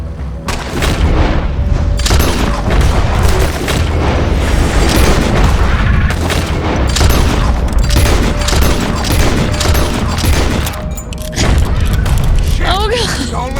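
Gunfire crackles and booms in Red Dead Redemption 2 as loud, rapid shots and heavy blasts pile into a dense, continuous barrage, with voices talking over the battle.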